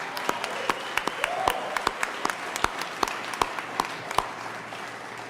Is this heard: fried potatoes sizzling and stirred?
no